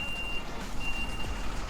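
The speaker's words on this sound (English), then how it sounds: "Looks like they've got a party rental truck backing in." A party rental truck backs in outdoors at a work site in Carmel, Indiana, its steady backup beeper sounding at a distance over a continuous low engine rumble and background hum.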